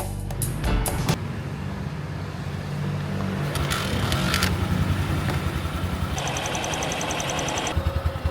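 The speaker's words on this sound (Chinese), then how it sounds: "这是一辆风靡全球的经典摩托车，本田 Super Cup。" A Honda Super Cub 110 motorcycle engine runs with a steady low putter, its rumble swelling slightly midway and holding on with a few sharp clicks and knocks.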